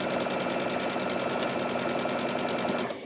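A sewing machine sews a plain straight stitch along the folded edge of a fabric book cover, giving a brief, steady, rapid whirring rattle that fades at the end.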